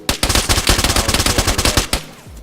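Rapid automatic gunfire in the video game DayZ, a dense burst of loud, closely spaced shots lasting about two seconds before cutting off, heard alone without talk.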